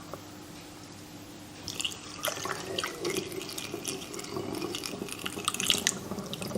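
Homemade banana brandy is poured, starting as a soft trickle and swelling into a steady splashing stream with little drips, close and fairly quiet, with no talking.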